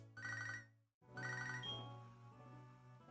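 A Pokémon SoulSilver handheld game's in-game phone rings with two short, bright electronic trilling bursts separated by a brief gap, the second trailing off, with no talking.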